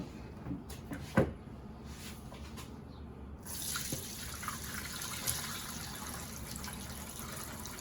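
Jalapeno pickling brine poured in a kitchen: a knock and clink, then a soft continuous liquid pour with faint splashes, quiet and close, no talking.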